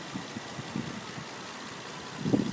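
A 2010 Nissan Maxima's V6 idles steadily with a low, smooth hum, quiet and even, with a slightly louder rumble near the end and no talking.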